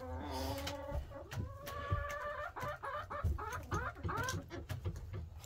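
Chickens and roosters cluck and call repeatedly in a coop, a dense overlapping chorus of squawks and rising crowing-like calls throughout, fairly close, with a low hum of background noise beneath.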